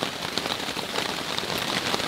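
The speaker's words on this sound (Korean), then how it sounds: "빗소리가 너무 커가지고 말소리가 잘 들릴지 모르겠어요" Heavy rain falls at a backpacking campsite in a mountain recreation forest, drumming densely and steadily on nearby surfaces, loud and continuous with no other sound.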